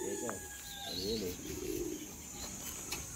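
A pet pigeon or dove at a Los Baños bird keeper's place coos in two soft, wavering phrases close by, against a steady high-pitched background hum and faint chirps.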